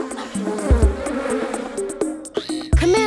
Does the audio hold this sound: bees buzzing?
yes